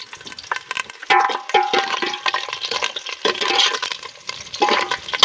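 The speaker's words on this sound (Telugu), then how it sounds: "ఆనియన్స్ ఫ్రై అయ్యాక కరివేపాకు." Onions fry in a pan while curry leaves drop in, setting off bursts of loud sputtering sizzle and crackle close up, rising and falling in surges, no voices.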